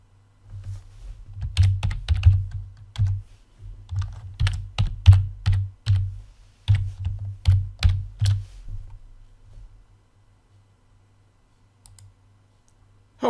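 Clicky computer keyboard typing at a login prompt, a close, rhythmic run of keystrokes over a low steady hum, pausing briefly midway and trailing off into near silence.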